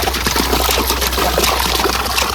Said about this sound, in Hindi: इस चौथे हैंडपंप का पहला पानी आप देखिए माशाल्लाह से कितना ज़बरदस्त भर के पानी आ रहा है